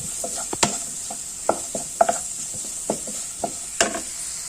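Onions frying in oil with turmeric and chilli flakes for a bitter gourd stir-fry, a steady close sizzle broken by sharp scraping stirs of the spoon against the pan, no talking.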